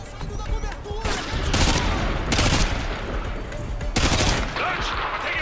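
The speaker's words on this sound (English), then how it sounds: "I'm taking a heavy fire from the militia here" Heavy militia gunfire in Call of Duty: Modern Warfare comes as sharp bursts of rapid automatic shots, several loud volleys in a row over steady battle noise.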